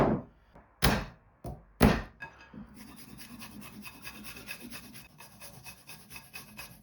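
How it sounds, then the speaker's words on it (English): Large garlic cloves are grated into gyoza filling, giving a soft, continuous rasping scrape close by, preceded by a few sharp thunks of handling on the counter. "you want to just grate that into your mixture."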